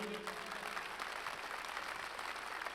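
Large arena audience at Paris La Défense Arena applauding as teams enter, a continuous wash of distant clapping at low volume, steady and even throughout without any voice over it.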